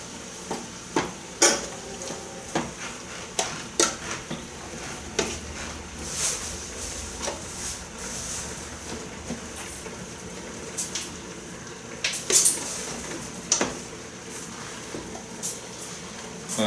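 Picadillo made with lean ground beef stirred in a pan, with scattered sharp scrapes and clacks of a utensil against the pan over a low sizzle, irregular taps spread across the stretch.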